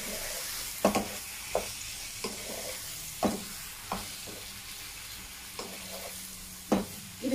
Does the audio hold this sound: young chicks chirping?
no